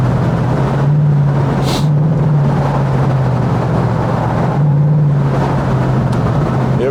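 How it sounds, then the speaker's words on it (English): Engine of a Lexus SC 430 droning steadily inside the Hatfield Tunnel, a continuous loud rumble with gentle swells in revs and a reverberant, enclosed character throughout. "So you get to hear the engine, what it sounds like."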